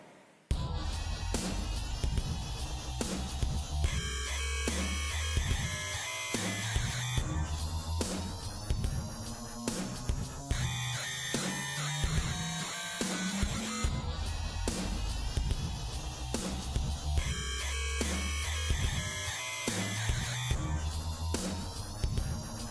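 High-pitched Raptor PX7 synth patch produced in Reason 6.5.3, played inside a dense, loud, fully mixed electronic track that runs steadily throughout with no talking.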